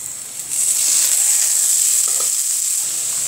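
Kalai greens (kolai shak) hit a hot pan with browned onions and break into a loud, steady sizzle that rises sharply and then holds, a continuous frying hiss with a few faint stirring clinks and no voices.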